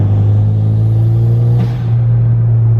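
A Toyota MR2 with a turbocharged engine running 15 PSI of boost pulls hard with a steady, loud, deep engine drone and a slight shift partway through, close to the listener with no talking.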